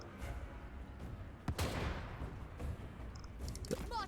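Gunshots crack out in Total War: Three Kingdoms' Cathay faction battle, faint and distant amid a low rumbling battlefield din, with one sharper report standing out and scattered shots following.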